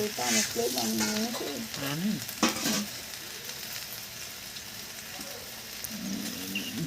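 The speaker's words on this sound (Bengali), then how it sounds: "পুড়ে গেছে লাল আলু পুড়ে গেছে তাপটা বেশি লাগছে নাড়তে হবে তার মানে মশলাটা দিয়ে নাড়তে হবে" Potatoes with spices fry over a coal fire in a rooftop setting, a constant hiss of sizzling oil under occasional stirring scrapes, with someone speaking over the start and again near the end.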